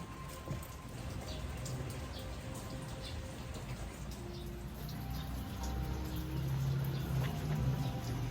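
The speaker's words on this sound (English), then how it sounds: "You don't worry about rain." Steady rain falls in a soft, continuous patter outdoors, a faint even hiss with scattered drops that thickens slightly toward the end.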